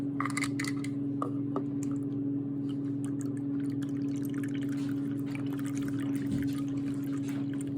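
Tamari sauce poured from a bottle into a measuring cup in a home kitchen, a soft close trickle lasting several seconds over a steady appliance hum, with no talk.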